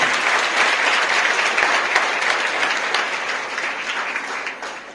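An audience at a school zonal sports and cultural prize distribution applauds a team with loud, dense clapping that holds steady and then gradually fades toward the end.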